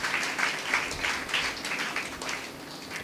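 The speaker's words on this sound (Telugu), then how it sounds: "అందరూ పరిశుద్ధాత్మను ఆహ్వానిస్తూ చప్పట్లు కొడదాం" A church congregation clapping together during a worship service: rhythmic, evenly spaced claps from many hands, repeating steadily throughout at moderate loudness.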